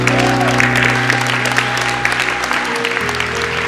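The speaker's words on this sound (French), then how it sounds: "On peut les applaudir encore une fois." Audience applause at a French-language church family teaching session, a steady dense clapping that fills the whole moment, with sustained organ or keyboard tones ringing underneath and no speech on top.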